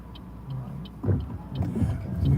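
A car accelerates during a driving lesson, a low engine rumble swelling in two steps from inside the cabin, fairly quiet and steady.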